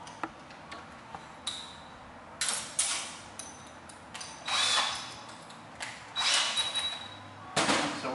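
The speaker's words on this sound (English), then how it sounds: "We're just going to simply finish drilling a hole straight through the runner." A drill bores a hole through a carbon intake runner on a 2020 C8, in several short bursts of sharp high whine separated by quiet pauses, close up and without speech.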